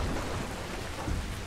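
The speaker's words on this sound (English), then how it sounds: "It is raining in Rapture, and you have simply chosen not to notice." Steady rain with a low rolling rumble of thunder inside the underwater city of Rapture in the BioShock 2 video game, a dense continuous wash of falling water heard alone without voices.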